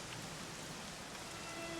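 Steady rain in Dragon Quest XI S forms a dense, even hiss of falling drops with no pauses. It stays constant for the short stretch, without thunder or voices.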